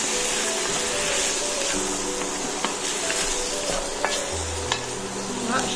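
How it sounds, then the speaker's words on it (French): Chicken and curry sizzle in a pan while being stirred, the steady frying hiss broken by a few clicks and scrapes of the utensil, heard close up with no talk. "on va faire dorer notre poulet"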